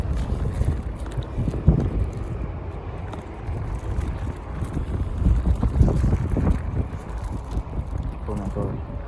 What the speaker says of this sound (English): It's too windy out here though.